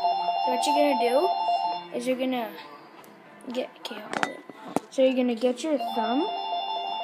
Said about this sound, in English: And sorry for my phone ringing